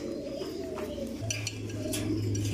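Racer pigeons cooing at a pigeon farm, a low soft coo rising near the middle and continuing to the end, with faint rustling and background clatter.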